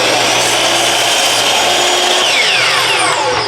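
A power saw cuts cedar fence pickets at an angle, a loud continuous whine with a rising pitch as the blade runs through the wood.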